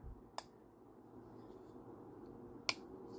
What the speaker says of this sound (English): when I open it, did you hear that click?